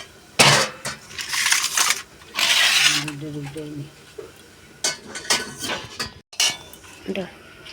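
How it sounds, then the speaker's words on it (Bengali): Potatoes, including yam, tipped into a cooking pot for a fish curry: rattling, scraping clatter in bursts, near and fairly loud, with a voice speaking briefly partway through. "আলুটা ঢেলে দিলাম"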